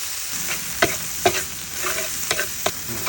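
Shrimp paste sizzles as it is stir-fried in leftover oil from frying shrimp, a steady close hiss punctuated by several sharp spatula scrapes against the pan.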